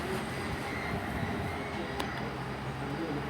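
Class 450 electric multiple unit 450041 pulling out of Fareham station on a delayed service to Portsmouth and Southsea, a steady, fairly loud rumble of traction and wheels with no talk over it.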